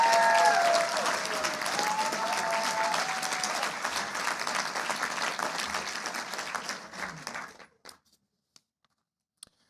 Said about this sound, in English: So they deserve a large round of applause as well.